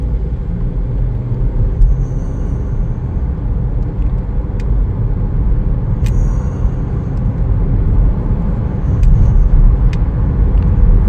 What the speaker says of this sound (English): We're going to take it for a little test drive.